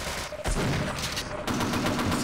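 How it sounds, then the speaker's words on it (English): A mounted machine gun turret in Half-Life: Uplink on Sven Co-op fires dense, rapid bursts, loud and close, with a brief gap before the firing resumes. "So that's the turret."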